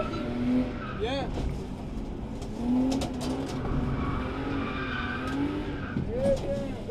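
An old BMW drifting with repeated tire squeals and rising engine revs, heard from inside or near the car while a voice talks over it at moderate volume.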